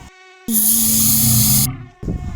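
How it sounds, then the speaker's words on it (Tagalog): A loud, steady high-pitched insect whine, like a mosquito buzzing close by, holding for about a second before cutting off abruptly. "habang natutulog si Leon, ay dumating si Lamok"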